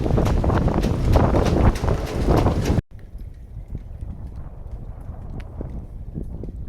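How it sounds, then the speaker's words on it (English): Strong wind of around 35 knots roars and buffets the microphone in loud gusts, then drops abruptly to a lower, steadier rush with scattered knocks. "the wind I think is around 35 knots"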